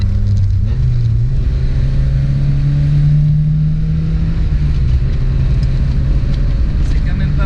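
A Volkswagen Scirocco GLI engine and exhaust pulls under acceleration, a steady loud rumbling drone with a rising tone, heard from inside the car, with no voices over it.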